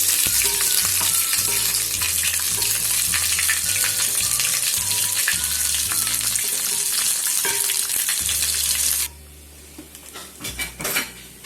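A tablespoon of cumin seeds fries in hot oil for a sabut masoor dal tempering, giving a loud, steady sizzle with clinks of pan and utensils. The sizzle cuts off abruptly near the end, leaving a few faint clatters.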